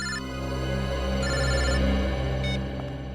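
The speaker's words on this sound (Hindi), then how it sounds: "सर, मोबाइल कंपनी वालों का फोन था।" A mobile phone ringtone plays steadily for a few seconds. The tone is loud and close, with repeated bursts over a low background hum and no talking.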